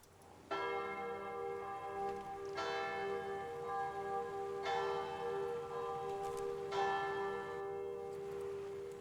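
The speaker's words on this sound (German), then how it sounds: "ja cool, die Glocke geläutet" A church bell tolls from a basilica in the video game Sniper Elite Resistance, with four clear, resonant strikes evenly spaced about two seconds apart. Each ring carries a long sustained hum over a quiet background.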